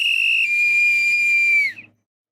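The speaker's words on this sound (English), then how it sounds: "now we should be getting the whistle for the hydration break" A referee's whistle blows one long, shrill, sustained blast for a hydration break during a World Cup round-of-16 football match between Brazil and Norway, dropping away sharply at the end.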